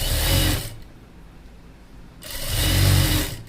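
A sewing machine stitching a pant hem runs in two loud whirring bursts, with a softer lull between them and no talking.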